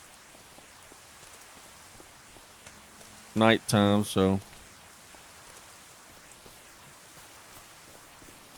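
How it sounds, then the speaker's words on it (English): Rain falls in the farming video game Farming Simulator 25, a soft, steady hiss of in-game rainfall that continues throughout, with someone briefly speaking over it midway. "maybe it won't be raining very long here"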